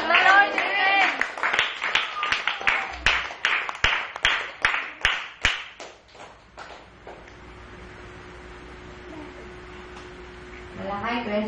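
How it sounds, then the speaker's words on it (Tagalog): A church congregation claps in praise during a worship service: a steady run of sharp, close, rhythmic handclaps at about two per second that fades after roughly six seconds into quiet room tone, with voices at the start and end. "at ang taong nagagalak pumapalakpak."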